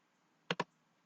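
Two quick keystrokes on a computer keyboard, close and crisp, sounding as a fast double click against a quiet room.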